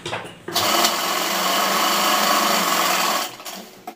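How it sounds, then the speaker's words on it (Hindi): A sewing machine stitches a side pocket onto the panel of a pajama, running in one steady, loud burst of about three seconds with brief quieter handling before and after. "अब हमें इधर से सिलाई लगानी है, पॉकेट को नीचे कर देना है, पैजामे के पल्ले पर यहाँ से यहाँ तक सिलाई लगा लेनी है"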